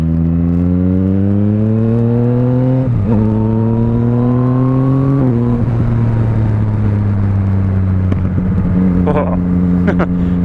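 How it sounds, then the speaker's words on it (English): A Yamaha MT-09 motorcycle fitted with an Akrapovic exhaust, ridden through rising gears with loud, close engine drone and shifts, followed by crackling pops on the overrun near the end. "this exhaust loves the pop. Silly amount of exhaust popping, but not a silly amount, but a good amount of popping"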